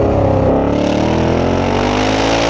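Engine of a 2025 Ford Mustang, a heavy 1,850 kg car, pulling hard in first gear with long gearing: a loud, steady, close droning roar with rising harmonic tones throughout, no voices.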